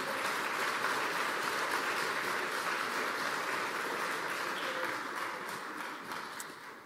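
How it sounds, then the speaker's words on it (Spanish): A church congregation applauds during a sermon, a steady wash of many hands clapping at moderate, somewhat distant level that fades slightly toward the end. "Dale un fuerte aplauso al Señor."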